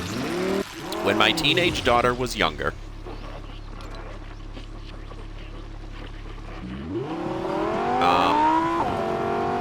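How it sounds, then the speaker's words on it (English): A car driven in Fortnite revs and whines through rising and falling engine tones, loud and close, fading to a steady hum before climbing again, with someone talking over it. "I'm gonna take my car."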